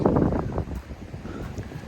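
Strong, dry wind gusts buffet the microphone in heavy, rumbling bursts, loudest at the start and then easing to a rougher, fluttering rush.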